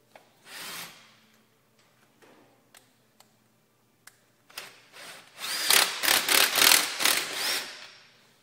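A power tool tightens the shock onto its shock mount on an EZGO Medalist TXT golf cart during a drop axle lift install: a few short taps and bursts, then a loud run of rapid impact-wrench rattles.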